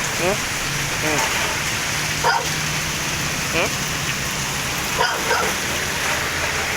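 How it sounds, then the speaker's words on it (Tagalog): Heavy typhoon rain pours down in a loud, constant roar, with a few short dog barks breaking through now and then. "Lakas ng ulan"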